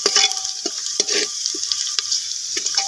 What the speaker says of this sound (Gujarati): ડુંગળી બળવા લાગી છે હવે